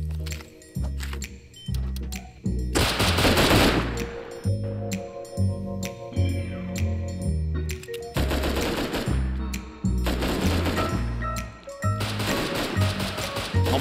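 Gunfire in the console version of the video game Rust, loud bursts of rapid automatic shots alternating with single heavy reports and brief gaps, close and dominant throughout.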